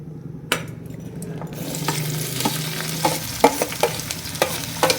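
Shallots, onion and green chillies fry in oil for a crab curry, giving a steady close sizzle broken by sharp scrapes and clinks of a spoon stirring the pan, with no one talking.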